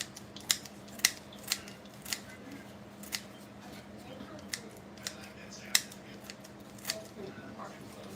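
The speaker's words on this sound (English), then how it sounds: "I'm gonna use my kitchen scissors and I'm going to just cut them small pieces" Kitchen scissors snip fresh thyme into small pieces in a home kitchen, giving about a dozen sharp, close, crisp cuts at an uneven but steady pace over a faint room background.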